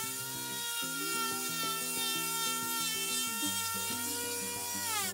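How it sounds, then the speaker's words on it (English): Dremel rotary tool roughening the surface of a molded EasyShoe cuff to remove release agent, a steady high-pitched whirring grind with shifting tonal pitch, continuous and close for the whole stretch. "So I will go ahead and scratch it up. You can use your Dremel like I did on these ones."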